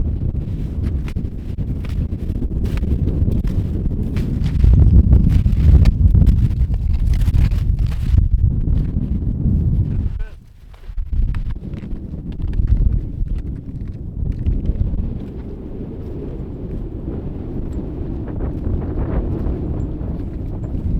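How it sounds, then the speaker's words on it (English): Strong blizzard wind on the Trolltunga hike in Norway, a heavy roaring buffeting against the microphone, loud and nearly constant with one brief lull partway through. "wind has picked up to dangerous amounts"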